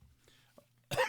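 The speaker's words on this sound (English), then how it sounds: "Cough break." A single short cough comes near the end, loud against a quiet room after a brief faint pause.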